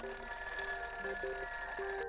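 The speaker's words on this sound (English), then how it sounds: "Once upon a time, alarm clocks were simple wind-up affairs that sat at the side of our beds and went" An old-fashioned wind-up alarm clock rings with a loud, continuous metallic bell clatter, close and alone, lasting about two seconds before cutting off.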